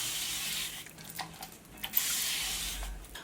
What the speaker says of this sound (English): spritz my ends a bit.